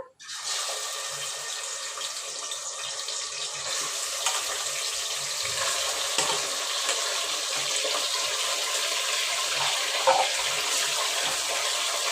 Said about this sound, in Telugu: నూనె బాగా వేడైపోయింది ముందుగా కడిగి పెట్టిన మటన్